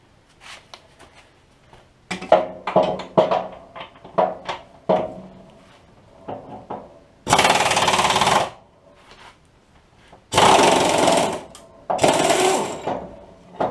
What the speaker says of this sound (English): just to get a little bit of extra working room to get my 18mm socket and wobbly and impact underneath there